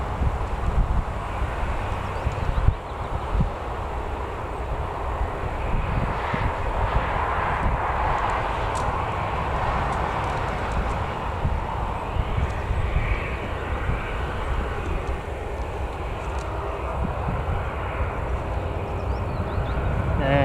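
A Jet2 airliner departs Newcastle Airport with a sustained, broad jet engine roar that holds steady at moderate distance, rumbling under a constant outdoor wash throughout.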